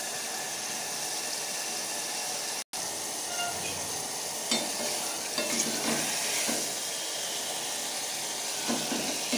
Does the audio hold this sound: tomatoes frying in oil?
yes